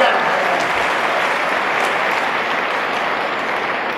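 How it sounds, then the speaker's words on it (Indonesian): An audience at a university public lecture by Indonesia's health minister breaks into loud, sustained applause. The clapping is dense and even and stays steady from start to finish, with faint voices mixed underneath. "Boleh tepuk tangan dong."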